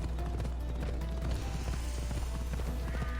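Horse hooves clop rhythmically in Assassin's Creed Odyssey, a quick steady gait with creaking tack and mechanical game sounds underneath, no one talking.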